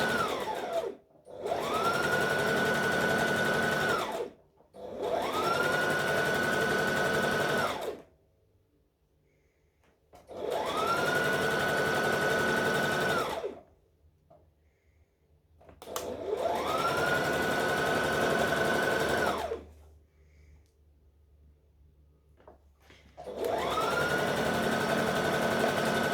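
A sewing machine runs through a gathered dress skirt in four long bursts of a few seconds each, with quiet pauses in between. The motor audibly revs up and winds down at each start and stop.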